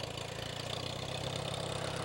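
An old tractor engine idles at a steady, close, rumbling throb with an even rhythmic chug and no talking over it.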